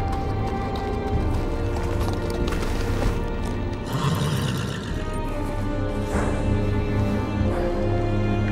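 Horse hooves clip-clopping in the Game of Thrones Telltale video game, steady rhythmic steps over a low ambient drone, with occasional louder thumps.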